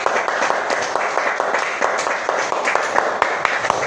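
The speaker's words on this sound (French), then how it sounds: "Applaudissons encore pour notre Seigneur." Congregation applauding during a French-language church revival service, a steady dense wash of clapping that runs throughout at moderate loudness with scattered sharper hand claps standing out.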